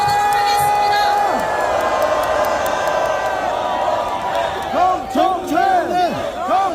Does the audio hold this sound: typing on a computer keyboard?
no